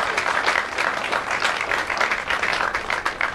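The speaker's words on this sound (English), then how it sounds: "This is where everybody applauds." An audience at a ribbon-cutting grand opening for the corporate office of Tuv Sud America in Woodbridge, New Jersey, claps in steady, loud, continuous applause throughout.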